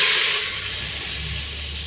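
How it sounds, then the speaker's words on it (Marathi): Onions sizzle in hot oil for a homemade chicken dum biryani, a steady bright frying hiss that eases slightly after the first moment. "नंतर मी कांदा तळण्यासाठी घातला."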